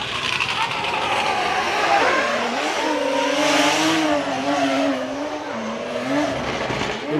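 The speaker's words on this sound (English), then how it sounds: "first run in this E92 BMW" An E92 BMW drift car on a qualifying run at Ebisu Circuit West Course in Fukushima: the engine wails and rises and falls in pitch while the tires squeal loudly and continuously throughout.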